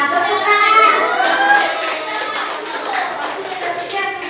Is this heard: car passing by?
no